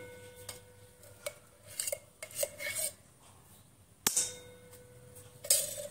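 Metal kadai being set on the stove for cooking shahi paneer, a few sharp clangs and clattering knocks of pan and spoon scattered over several seconds, close and fairly quiet, no talking.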